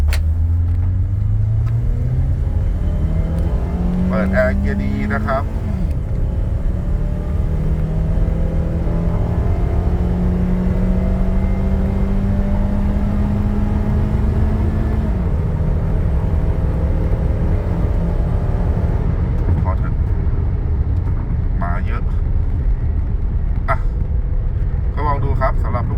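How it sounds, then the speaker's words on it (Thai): A Honda Accord G8 with a 2.4 engine, remapped, running 95-octane gasohol with no catalytic converter, revs repeatedly on the throttle, its engine note climbing and falling in long sweeps while someone talks over it. "เดี๋ยวเรามาดูตาเร่งกันว่าเป็นยังไงนะฮะ"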